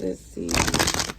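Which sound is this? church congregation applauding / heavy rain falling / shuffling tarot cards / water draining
shuffling tarot cards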